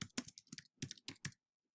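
Quick bursts of computer keyboard typing, a few clustered clicking keystrokes close up, then a brief silence at the end.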